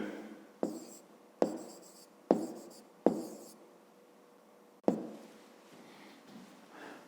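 Pen writing on paper during a fifth-grade maths exercise, five sharp taps each followed by brief scratchy strokes, close and clear with no talking.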